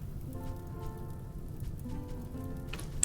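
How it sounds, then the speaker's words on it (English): Rain falling in the video game Rimworld, a steady soft patter with low rumble underneath, continuous and moderately quiet, with a brief sharper tick near the end. "There's the rain."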